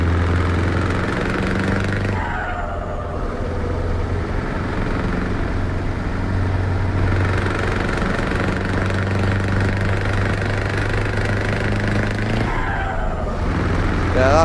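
Scania truck engine in Euro Truck Simulator 2 with a valved exhaust, a steady low droning rumble running throughout, loud and close, with the tone shifting slightly in places.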